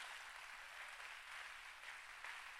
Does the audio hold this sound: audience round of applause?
yes